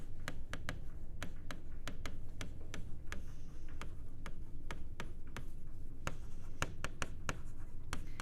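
A pen or marker scratches out numbers along tick marks on a math worksheet in a quiet room, with short strokes tapping in an irregular rhythm.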